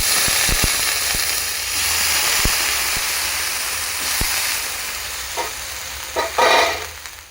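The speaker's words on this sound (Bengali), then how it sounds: "সাদা তেল দিয়ে দিচ্ছি আলু ভাজার জন্য।" Potatoes fry in white oil in a wok with a steady, close hiss and sizzle, broken by a few sharp clicks of stirring and a louder bubbling surge near the end.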